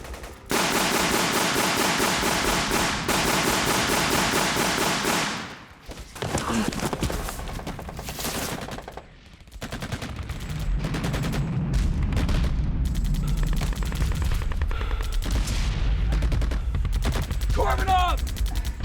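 A gunner's machine gun fires long, rapid, rattling bursts up close during a battle scene, followed after a pause by scattered shots, heavy low booms and ongoing combat noise.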